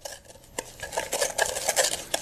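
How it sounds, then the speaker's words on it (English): Sugar and iodine are stirred into a thick paste, heard as close scraping and clinking of a utensil against a dish in quick, uneven strokes, with no talking. "is just mixing the sugar and the iodine up till you get to a nice peanut butter or thick honey type consistency"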